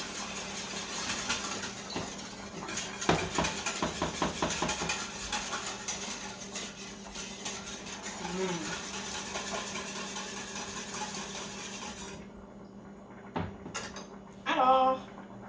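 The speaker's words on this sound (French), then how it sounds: "Je vais mélanger ça." Chocolate tart filling mixed in a bowl: a utensil clinks and scrapes in bursts against a steady background hum, with a few sharper taps near the end.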